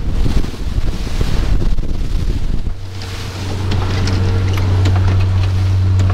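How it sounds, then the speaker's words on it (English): A fishing boat motors slowly into waves off the South Coast, with a steady low engine drone under gusting wind buffeting and splashing water, rough and loud at first before settling into a smoother hum. "Can't go too fast because we're heading into the waves, and they just make it a little bit slammy"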